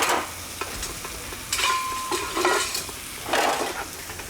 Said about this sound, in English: I can hear the sizzle.